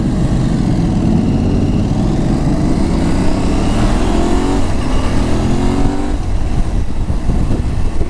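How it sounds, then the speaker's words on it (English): An Aprilia Tuareg 660 motorcycle engine accelerates hard, loud and close, its rising pitch climbing through gears with a brief shift near the end, alone without voices. "She definitely has some get up and go right off the line. These Aprilia engines are impressive."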